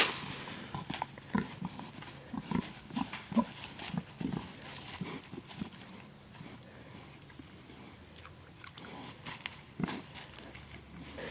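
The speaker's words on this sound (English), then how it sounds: "Pigs want some broccoli." Pigs eat broccoli outdoors, with irregular crunching, snuffling and shuffling steps at low to moderate volume, busier early and quieter toward the end.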